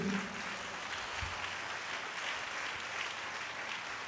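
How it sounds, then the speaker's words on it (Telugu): Church congregation clapping together during a worship sermon, a steady continuous wash of applause that holds evenly at moderate loudness for several seconds with no speech over it. "అందరూ చప్పట్లు కొట్టి దేవుని మహిమపరచండి."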